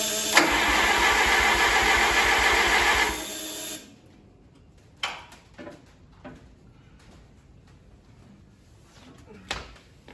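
Oliver 550 tractor engine, freshly rebuilt and choked, cranking loudly for about three seconds with a steady pulsing starter rhythm, then cutting out without catching, followed by quiet with a few scattered clunks.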